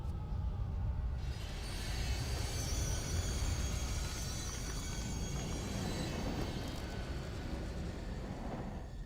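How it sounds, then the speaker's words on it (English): Train in the horror game Here They Lie screeching to a halt in a tunnel, a loud continuous rumble with a high metallic squeal that persists, then eases slightly near the end. "like the train come to a screeching halt."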